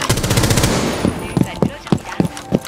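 Rapid automatic gunfire in Rainbow Six Siege, a loud dense burst followed by several spaced single shots, close and sharp, with a faint voice in the background.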